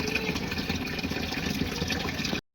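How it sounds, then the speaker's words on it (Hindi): Water pours steadily into a household washing machine as it fills, a continuous rushing hiss with a low pump-like hum, close and even until it stops abruptly at the end. "मशीन में पानी भर रही हूँ, पानी भर जाएगा।"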